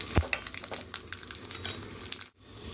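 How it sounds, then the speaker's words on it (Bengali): Faint frying of tempering spices, panch phoron, fennel, dried chilli and black mustard seeds, in oil, with light crackles, a sharp tap of a utensil and soft stirring over a low sizzle. "এবার ফোড়নে দেব 5 ফোড়ন, মৌরি আর শুকনো লঙ্কা আর কালো সর্ষে দিয়ে হালকা একটু নাড়াচাড়া করে ভেজে দেবো।"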